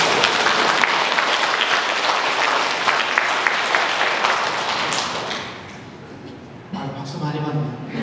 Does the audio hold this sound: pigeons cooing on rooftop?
no